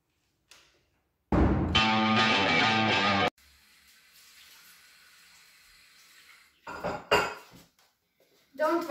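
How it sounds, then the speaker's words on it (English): Dishes being washed by hand at a sink: a loud two-second burst of clattering and running water, followed by a quieter steady wash and a few sharp clinks of crockery near the end. "Don't wash in dishes by hand."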